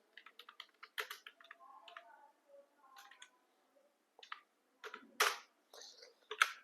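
Fingers type on a computer keyboard to enter data into an Excel spreadsheet, making quick bursts of close, crisp clicks separated by short pauses.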